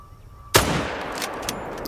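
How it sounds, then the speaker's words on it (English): Hunting rifle shot in the video game theHunter: Call of the Wild, a single sharp loud crack after a quiet moment, followed by a rolling echoing tail with a couple of faint later pops. "All three of those shots missed."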